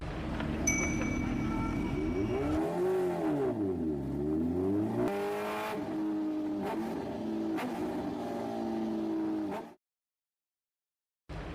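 A heavy motorbike engine revs loudly, its pitch dipping and swelling before settling into a steady high roar that cuts off abruptly into silence near the end.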